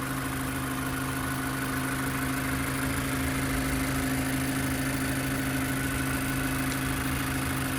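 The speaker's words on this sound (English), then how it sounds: "nice and smooth running engine" The 2.0-liter four-cylinder engine of a 2017 Mazda 3 idles steadily and smoothly, a constant low hum with an even drone and no variation, heard up close with no talking.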